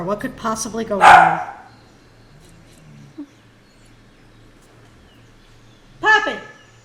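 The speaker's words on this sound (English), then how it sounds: "So obviously that's my dog, Poppy." Pet dog Poppy barking indoors, a burst of several quick loud barks near the start and another close yelp later, with someone talking in between.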